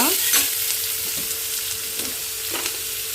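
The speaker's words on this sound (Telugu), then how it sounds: "అది మంచిగా వేయించాలి ఉల్లిపాయ కొంచెం దూరగా వేగాలన్నమాట" Sliced onions frying in oil for a potato curry, with a steady close sizzle and a few soft scraping stirs of a spatula against the pan, no voices over it.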